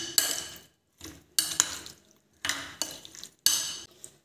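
Puti fish paste being worked together with spoonfuls of oil in a bowl: four separate bursts of wet scraping and stirring, close and fairly quiet, with short silent gaps between.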